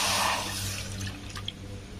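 Water poured into a pan for cooking semolina, a close, steady splashing pour over about two seconds, with no voices.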